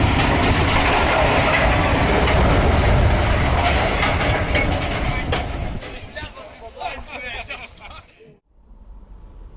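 Railway wagons roll along the rails with steady clickety-clack and a heavy rumble that gradually fades out, while a voice narrates over it.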